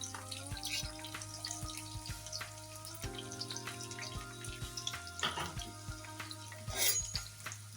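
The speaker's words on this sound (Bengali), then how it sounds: "পেঁয়াজটা একটু হালকা ভাজা হোক" Chopped onions frying in a pan of oil after whole cardamom is tempered, for chicken do pyaza; a steady close sizzle and crackle runs throughout, with a constant low hum behind it and no talking.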